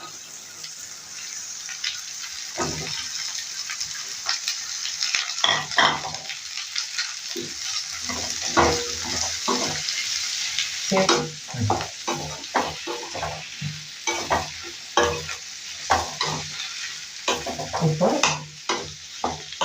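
Ivy gourd (kovakkai) frying in a pan with garlic and onion, stirred in steady scraping strokes over a constant close sizzle, with a brief spoken word near the start.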